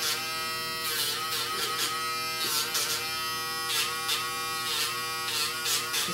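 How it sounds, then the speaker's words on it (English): A Dremel rotary tool grinds down a nail, giving a close, steady high-pitched whine with brief rasping pulses as it repeatedly touches the nail. "we're going to keep tapping the nail with the Dremel"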